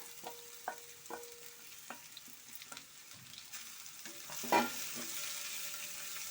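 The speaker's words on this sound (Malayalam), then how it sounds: "നല്ലപോലെ ഇളക്കി യോജിപ്പിച്ച് കൊടുക്കണം" A sweet mango curry for a Vishu feast being stirred in a pan, with scattered scraping clicks of the spoon and a soft sizzle that swells toward the end, quiet and close with no talking.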